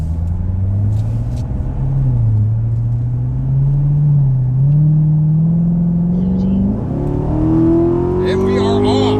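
A C7 Corvette pulls hard through a 60-130 mph roll race, its engine note climbing steadily in pitch with a brief dip around a shift, loud and close, with a voice speaking over the drone.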